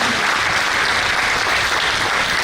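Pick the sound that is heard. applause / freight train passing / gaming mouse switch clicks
applause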